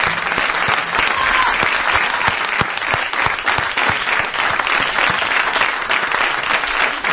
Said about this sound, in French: Un applaudissement pour Patrick Fiori et tous ces musiciens.